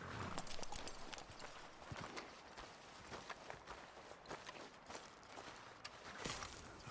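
Horse hooves clop irregularly on the ground as riders dismount in Red Dead Redemption 2, a faint scatter of soft, close thuds with no talk.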